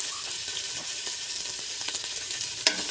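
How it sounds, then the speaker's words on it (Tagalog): A pot of chicken sotanghon soup stirred with a utensil: a steady hissing bubble with scattered small scrapes and clinks, ending in a sharper knock, close and alone. "Haluin po natin."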